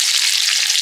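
Onion sizzling in hot oil alongside bay leaf and dried red chilli while a fish curry is started, a loud, close, steady hiss of frying with no voice over it.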